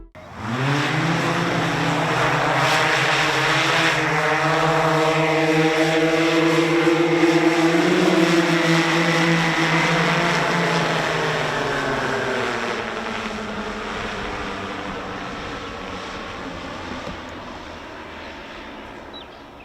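A Heaviside electric aircraft takes off with a loud, smooth propeller whine and hum that swells, holds with shifting tone, then slowly fades as it moves away.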